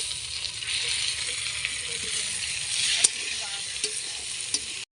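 Whole green chillies, cumin seeds and bay leaves sizzle in hot oil with a steady, close hiss, broken by a few sharp pops and stirring clicks.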